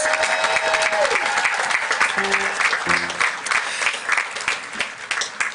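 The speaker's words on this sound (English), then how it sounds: "One more round of applause for Truesdale House." Steady, dense applause from a large crowd at a high school commencement fills the whole stretch, with a few brief tones and murmurs underneath.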